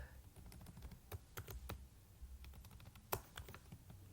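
Rapid, irregular keystrokes on a computer keyboard, close and quiet, with clustered clicks and one sharper tap near the end, no voices.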